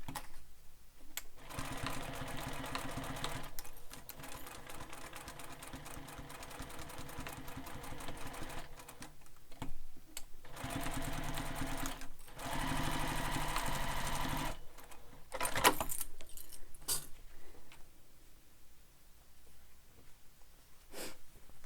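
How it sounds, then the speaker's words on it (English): A sewing machine back stitches across the top of a fabric sling pack in several short, rapid bursts separated by pauses, close and fairly quiet. "I'm going to back stitch across the top here, just to make sure."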